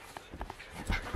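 A dog, excited and racing about after a walk, gives a few short, high whimpers and yips over soft scuffling movement, fairly quiet and close.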